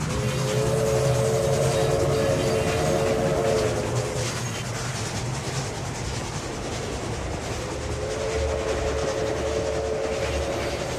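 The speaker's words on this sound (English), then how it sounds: "huffing and puffing of her pistons, and the clickety-clack along the rails" A big Frisco Railway steam locomotive hauls past with steady rhythmic rail clatter and rumble, loud and close, its steam whistle sounding in two long blasts.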